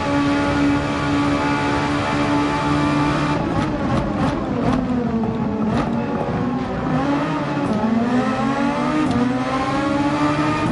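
An F1 car engine in a racing video game, a loud continuous high-pitched whine with pitch rising and falling through gear changes and a few sharp shifts.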